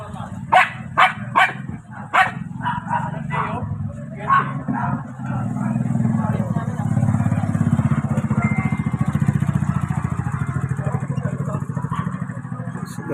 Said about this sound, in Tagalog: Nakakita sila ng kagaya nilang maliit na aso, kaya tumatawag sila.